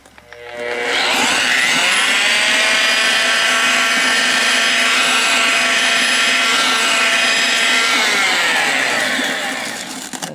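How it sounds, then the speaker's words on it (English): A handheld electric mixer churns mortar in a bucket. It spins up quickly into a loud, sustained whine, runs steadily for about nine seconds close by, then begins to wind down. Nobody speaks. "Let's see if I can hold the mixer with one hand."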